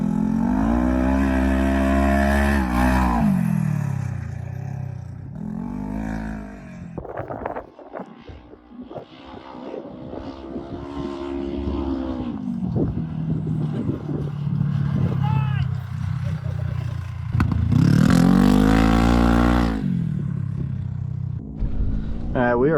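Honda Talon and Polaris RZR side-by-sides racing around a dirt track, engines surging and fading as they pass, with wind buffeting and a person talking over it.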